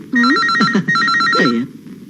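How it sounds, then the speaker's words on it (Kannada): An old-style telephone bell rings loudly and close in two quick trilling bursts with a brief gap between them, then stops. "ಫೋನ್ ಮಾಡೋಣ ಅಂತ ಬಂದ್ರೆ ಇದೇ ಬಡ್ಕೋತಾ ಇದೆ"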